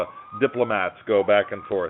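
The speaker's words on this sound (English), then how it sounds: "I apologize for the sirens" An emergency siren wails in the background while someone talks steadily over it, on a main street where a vice-presidential motorcade is passing.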